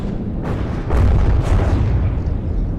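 Rocket explosions tear apart a ship in the naval combat game From the Depths, a dense continuous roar of heavy booms and rumbling blasts, loud and close, with several sharper bursts layered through it.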